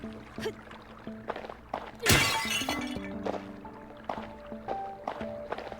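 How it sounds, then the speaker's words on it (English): Pots shatter in a video game, one loud crash of breaking pottery followed by small clinks and ticks, with soft game ambience behind. "we'll just go around smashing whatever we can find"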